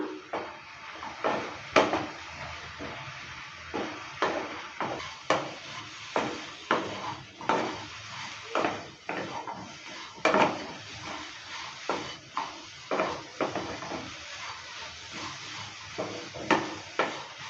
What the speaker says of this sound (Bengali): আবারও নেড়ে চেড়ে নিচ্ছি জলটাকে এভাবে করে শুকিয়ে নেব